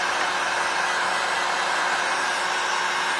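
A hair dryer blows loud and close, a constant even whoosh with a faint steady whine, drying freshly cleaned items with no pauses or talk.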